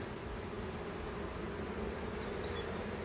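A honey bee colony from a caught swarm buzzes in a steady, dense drone, close and continuous throughout with no pauses.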